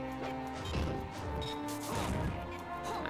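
Down smash attack in Super Smash Bros, Roy facing Mr. Game & Watch in a grand finals match, lands as heavy crashing hits over continuous game music and crowd noise.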